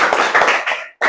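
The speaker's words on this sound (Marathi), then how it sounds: "दर्शनसाठी टाळ्या वाजवा." A short burst of hand clapping from young children in a Marathi vocabulary lesson, several quick uneven claps, then a brief gap before another clap starts.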